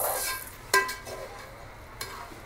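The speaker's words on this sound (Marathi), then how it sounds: "आणि मग हे असं हलवायचं." A spoon stirs a spiced rice dish with chilli in a pan, giving two sharp scrapes or clinks against the metal over a faint, steady background hiss, with no voices.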